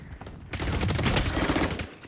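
Spectre submachine gun fire in Valorant rattles in a fast, dense burst lasting about a second and a half, loud and close, with no talking.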